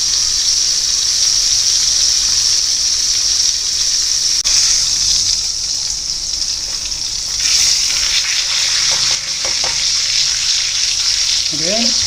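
A pork chop steak frying in oil in a pan, with a loud, steady, close sizzle that runs throughout and brief stirring or scraping noises on top.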